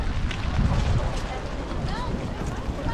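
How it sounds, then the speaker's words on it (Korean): Strong wind blowing outdoors in Paris, buffeting the microphone with a loud, steady low roar and rushing gusts that continue throughout. "바람이 너무 많이 불고 있어요"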